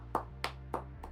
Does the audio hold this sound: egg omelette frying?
no